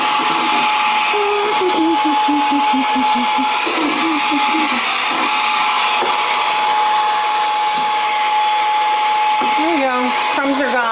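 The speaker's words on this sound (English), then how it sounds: "Oh, where's my vacuum? There's crumbs in my..." A handheld vacuum cleaner whines loudly and steadily while sucking up crumbs, a constant high motor drone that runs the whole time with a voice speaking over it.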